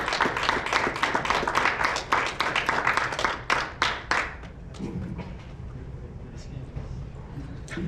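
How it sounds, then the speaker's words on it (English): A seminar audience at a success-principles training session gives itself enthusiastic applause, loud and close for about four seconds before it tapers off into scattered claps and murmuring. "I'd like you to give yourselves a round of applause"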